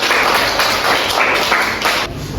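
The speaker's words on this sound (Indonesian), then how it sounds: "Tepuk tangan untuk Surya." Classroom applause for a student named Surya, a steady broadband wash of many hands clapping together, fairly loud and sustained throughout with no voices over it.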